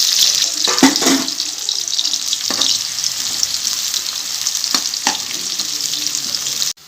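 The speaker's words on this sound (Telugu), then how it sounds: "ఆయిల్ హీట్ ఎక్కింది ఫ్రెండ్స్. ఆనియన్స్ వేస్తున్నాను." Two medium onions hitting hot oil for chicken fried rice, a loud steady hiss with a few stirring scrapes early on, cutting off abruptly at the end, no voices.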